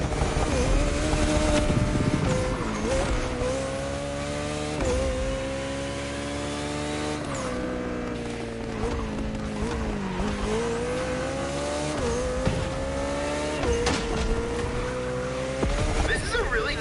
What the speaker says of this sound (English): This Koenigsegg is fast.